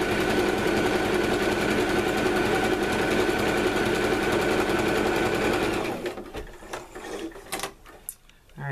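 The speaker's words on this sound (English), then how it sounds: "So I'm gonna lay this on top and sew it down." A sewing machine stitches a polka-dot strip onto a quilt piece, running in a fast, steady, close mechanical whir for about six seconds, then stopping, with fabric handling and light clicks after.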